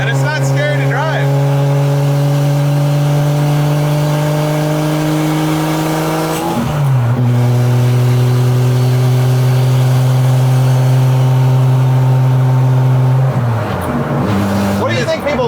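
A turbocharged 2JZ-swapped Dodge Charger engine drones loudly at half throttle from inside the cabin, holding steady pitch, dropping with a gear change near the middle, then shifting again near the end.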